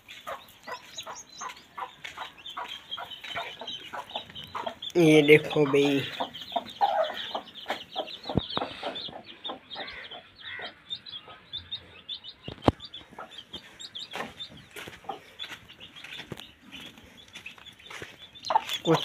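Soft, scattered clucks and chirps of small chicks near and around, with someone speaking briefly over them and rustling in the background.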